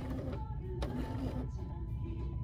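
Sewing machine running a short back stitch on blouse fabric, a brief whirring mechanical hum with a small pause midway, close and moderately quiet.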